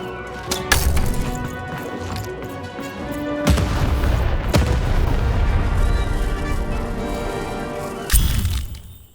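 A cannon fires in Lost in Random, with sharp booming cracks near the start and again in the middle and end, followed by heavy rumbling debris and crashing, loud and close.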